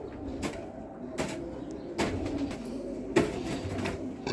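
Pigeons cooing in a loft, a few soft low coos and rustles at moderate distance with no talk over them.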